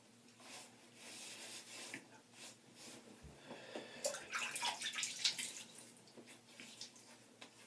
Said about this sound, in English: I'm just going to put some water on my face.